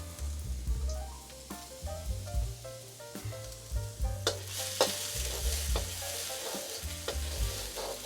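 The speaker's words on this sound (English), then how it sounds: "Coat your pan and add the fresh minced ginger. Let it cook for about 10 seconds while stirring so it doesn't burn." Fresh minced ginger sizzles and crackles in hot oil in a pan while being stirred, a steady frying hiss with rhythmic scraping strokes, close and fairly quiet, no voices.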